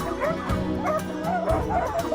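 Sled dogs in Talkeetna, Alaska bark and yip excitedly at close range, a dense overlapping chorus of eager yelps and whimpers with no pause, ready to run.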